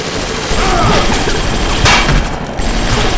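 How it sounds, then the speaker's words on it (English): Rapid gunfire from shooting an enemy in the Bioshock video game, a dense, loud, continuous burst of shots with crashing impacts lasting throughout, up close. "I'm behind you shooting the shit out of you"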